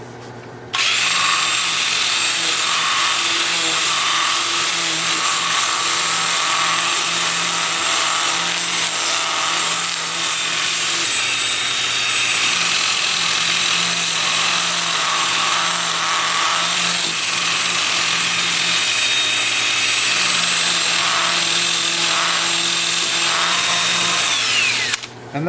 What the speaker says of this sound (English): I'll switch to my 2-inch disc starting at 80 grit, working up through 400.